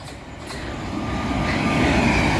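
A Class 700 train pulls into a station, a broad rumble of wheels and carriages building steadily louder as it nears, with a faint high squeal on top, no voices.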